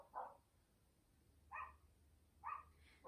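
A dog gives three or four short, faint barks from a distance in a quiet room during a yoga session, spaced about a second apart.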